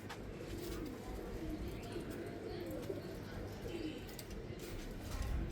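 Heno Chine (Black Panther) pigeons at a home breeding setup coo softly and continuously, a low murmuring drone set against steady background noise.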